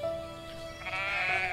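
Sheep bleat in the farming video game Everdream Valley, a couple of wavering, nasal cries overlapping over about a second and a half, close and clear over a soft ambient game background with no talking.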